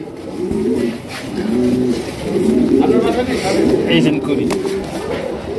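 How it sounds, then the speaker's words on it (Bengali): Satin pigeons coo in low, repeated rolling calls close by. Someone talks over them the whole time. "দেখছেন কত সুন্দর একজোড়া কবুতর"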